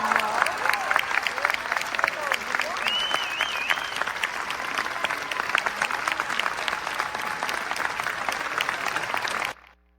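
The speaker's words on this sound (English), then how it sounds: "The applause kept going" A church congregation applauds at Sunday worship, sustained dense clapping from many hands with faint murmurs and whistles mixed in, holding steady for about nine seconds before cutting off abruptly.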